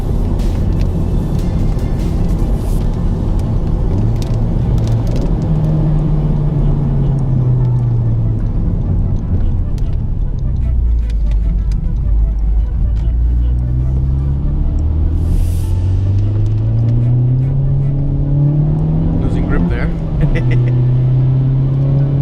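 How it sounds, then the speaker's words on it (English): Honda Civic Type R driving on slick, wet roads in the rain, its engine a loud continuous drone heard from inside, revs sinking then climbing again with steady road rumble underneath. "I am pretty impressed at how good the Type R is in the rain"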